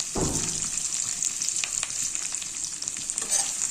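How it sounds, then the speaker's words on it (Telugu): Chillies and curry leaves fry in hot oil with a steady, bright sizzle throughout, a burst of spattering at the start as they hit the pan and a few stirring clicks, close and loud. "ఇది గోల్డ్ కలర్ వచ్చేంత వరకు ఫ్రై చేసుకోవాలి"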